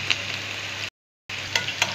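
Beef dropped into hot oil with lightly sautéed onions in a frying pan for a meat and potato tagine, giving a close, steady sizzle that cuts out briefly and then resumes with a few sharper crackles.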